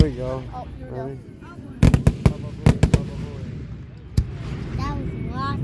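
Grand finale fireworks over Plainfield, Connecticut crack in a rapid volley of loud, sharp explosions, then one more bang, with people chattering close by before and after.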